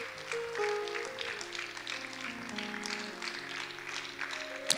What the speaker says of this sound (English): Please keep on clapping until she comes.